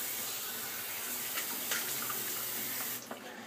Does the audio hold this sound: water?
yes